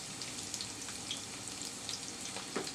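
Sliced garlic and a half spoon of whole panch phoron frying in oil for a raw mango pickle, making a quiet, even sizzle with scattered faint pops and crackles throughout.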